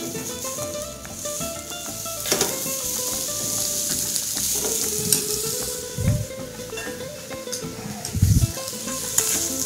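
Lamb chops sear in a frying pan with a continuous close sizzle, crackling spatters and a few louder bursts as the meat shifts, heard without talk.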